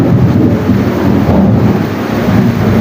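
Thunder rolls as a loud, continuous low rumble that stays heavy throughout, with a wash of rain and wind noise on the microphone and no voices.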